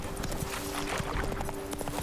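Geralt's horse Roach from the game The Witcher 3, heard as steady hoofbeats in a rapid clip-clop rhythm at moderate level, layered over a sustained background tone with no speech.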